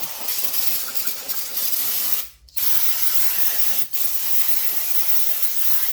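Brake cleaner sprays from an aerosol can onto Kohler engine parts on a Cub Cadet 1554, a loud continuous hiss broken by two short pauses, close up and with no voices.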